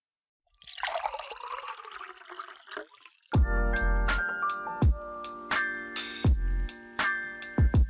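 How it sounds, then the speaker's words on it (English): Coffee is poured into a cup, a steady liquid trickle for about three seconds, followed by sharp clinks and knocks of cups being set down, close and clear with no talking. "Pour the coffee."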